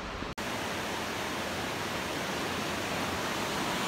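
Kelsey Creek flowing beside the Rogue River Trail near Grants Pass, Oregon, a steady close broadband rush of water after a brief break at the start, continuous and loud with no voices.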